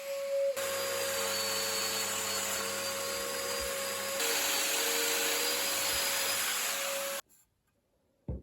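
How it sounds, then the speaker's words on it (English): A dust extractor hums steadily during a woodworking build of a sofa table, a constant whine with a droning tone that runs for about seven seconds before cutting off abruptly into near silence. "the dust extractor is turned on at this point, it's just not powerful enough"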